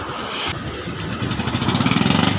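A ten-year-old fishing boat engine struggling to start, a rough motor sound that builds into a fast, regular chugging pulse that grows louder toward the end.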